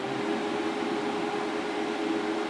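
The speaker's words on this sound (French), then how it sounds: "Là, par exemple, ventilateur, ok." A Piaggio scooter's cooling fan runs during a diagnostic test, giving a steady, even whir with a faint hum underneath that holds constant the whole time, with no voices.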